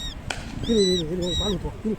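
A hungry baby bird calls repeatedly in loud, close, rising and falling squawks, with a short sharp click between calls.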